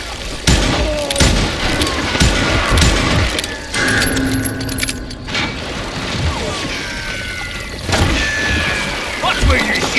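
Gunfire in the western video game Call of Juarez: Gunslinger, bursts of shots and mechanical clatter amid busy game sound, with shouting voices over the action.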